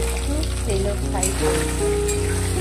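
Paneer frying in white oil with a little mustard oil, seasoned with salt, turmeric and chili powder: a steady, dense sizzle that holds loud throughout, with faint background talk.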